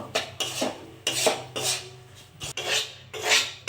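Semolina and gram flour roasting in a pan, with a utensil repeatedly scraping and clinking against the metal in short bursts, close and fairly quiet, no voices.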